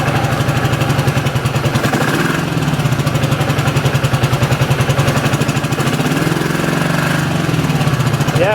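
A restored Kawasaki KZ400 motorcycle engine running after a charging-system repair, a loud close, steady throbbing idle with an even rapid pulse throughout and no talk.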